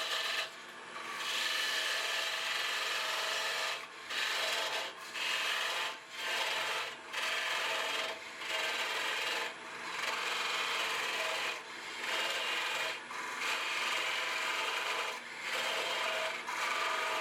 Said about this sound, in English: I'm using my little narrow custom-made tool rest to cut it off from the mounting spigot.